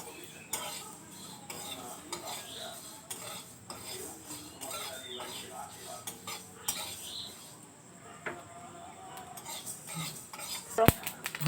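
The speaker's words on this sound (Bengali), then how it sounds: "তাই দিয়ে দিলাম মেথি আর মৌরি। এবার ভেজে নিচ্ছি।" Fenugreek and fennel seeds being fried in a pan for a mango fish curry, with a steady run of light metal scraping and clinks from a spoon against the pan, plus a faint sizzle, near and alone.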